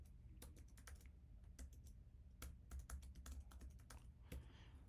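Crisp keystrokes on a computer keyboard as login credentials and a password are typed, irregular bursts of close clicks with short pauses between them, alone with no voices.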